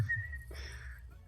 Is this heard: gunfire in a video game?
no